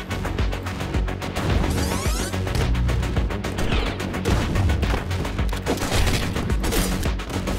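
Dense, rapid gunfire in Katana ZERO, with overlapping shots and bursts firing continuously, loud and close throughout.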